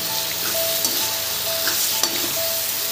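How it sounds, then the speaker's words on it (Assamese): Meat is stirred as it fries in hot oil, with a constant close sizzle and occasional scrapes and knocks of the spatula in the pan. "ইয়াতে এতিয়া মাংসকণ দি দিলোঁ এতিয়া মাংসকণ লৰাই ল'ম"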